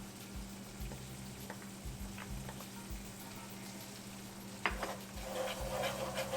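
Ginger garlic paste frying with onions in a pan, a soft, steady sizzle with a low hum and occasional utensil taps, plus a sharper clack near the end, quiet and close with no voices.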